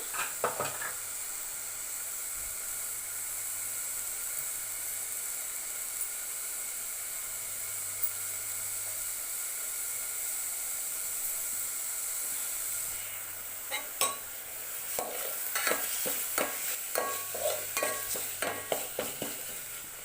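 Fish curry base frying in a pan with tomato puree being added, a steady sizzling hiss throughout, then sharper stirring scrapes and spattering bursts in the second half.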